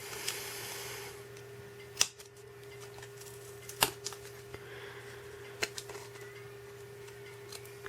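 Scissors snipping the bottom of a handmade paper rose, a few sharp isolated cuts spaced apart over a quiet low background hum, close by, with no talking.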